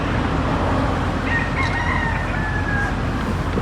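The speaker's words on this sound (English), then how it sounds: "I need rooster crowing" A rooster crows once in a long, drawn-out call that rises over steady, loud background noise, heard at moderate distance with no voices during the crow.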